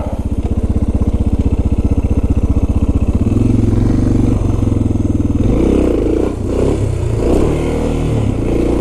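Loud, close engine of a Suzuki DR650 motorcycle during wheelie practice, a rapid chugging idle that swells into revving and throttle blips, with wind and clatter toward the end.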